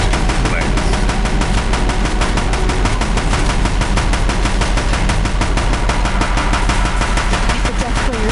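Rapid, sustained gunfire rattles in a Horizon Zero Dawn battle on a bridge, a loud, evenly spaced stream of shots that barely pauses, with battle noise beneath and voices talking over it.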